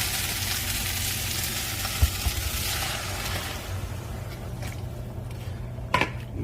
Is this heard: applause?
no